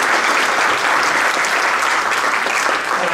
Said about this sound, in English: How about giving them all a huge round of applause now for taking part in the process